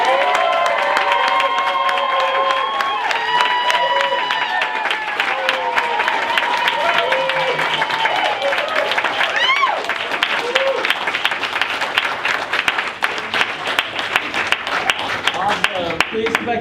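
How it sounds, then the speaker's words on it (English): Audience applauding and cheering together, the clapping loud, dense and steady throughout with whoops and shouts rising over it and voices in the crowd mixed in. "please applaud them as if you saw like the most amazing person in the world"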